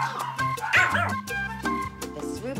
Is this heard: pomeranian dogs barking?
yes